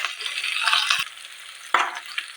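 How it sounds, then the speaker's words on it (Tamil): Large onions, curry leaves and dried red chillies sauté in hot oil with a bright sizzle and stirring scrapes, broken by a couple of short clatters. "கட் பண்ணி வச்சுருக்கிற 2 பெரிய வெங்காயம், கொஞ்சம் கருவேப்பில், 2 வரமிளகா, இதையெல்லாம் ஆட் பண்ணி நல்லா வதக்கிக்கலாங்க"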